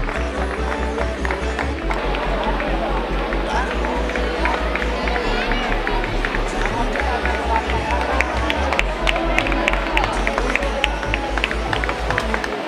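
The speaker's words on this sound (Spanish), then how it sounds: "un aplauso, por favor, hay que animarlo." Spectators at a sprint triathlon in Pozoblanco applaud and cheer a passing runner, steady crowd clapping and chatter filling the scene, with a steady low musical beat running underneath.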